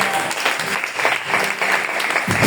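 A church congregation claps in a dense, sustained burst of applause that fills the room evenly from start to finish.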